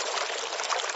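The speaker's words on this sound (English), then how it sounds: "Let's pour the beer." Dark beer with a frothy brown head pours into a glass in a brief, close, one-second splashing trickle.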